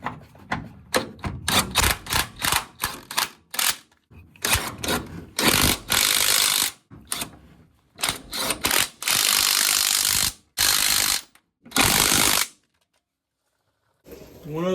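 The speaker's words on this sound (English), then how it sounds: "we can tighten the gearbox back down" A ratchet tightening the steering gearbox bolts on a 1977 Ford F150 4x4 during a steering swap, with bursts of rapid close clicking separated by short pauses as the handle swings back and forth.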